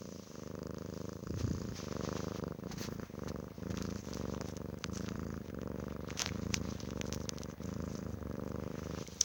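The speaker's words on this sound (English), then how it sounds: "Just thought I'd let you hear her purr." A cat purrs very close to a tablet microphone, giving a continuous, loud, near rumble that pulses with the cat's breathing and runs without pause and without voices.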